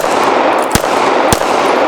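Two sharp, loud gunshots roughly half a second apart from a SIG P320 pistol, each a brief broadband crack standing out over a steady, noisy outdoor background.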